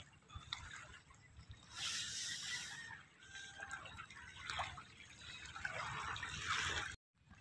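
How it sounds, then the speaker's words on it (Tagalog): Rain drips and patters softly near a seaside spot lined with moored boats, a quiet irregular trickle of drops that swells and fades for several seconds before cutting off abruptly. "Maulan ngayon."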